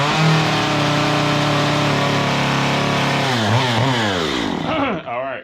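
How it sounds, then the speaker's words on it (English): A chainsaw carves the angled underside of a wooden cardinal's beak, idling with a steady buzzing drone before revving and bogging in several wavering surges as it bites into the wood, then cutting off. "we're going to do this angled cut right here"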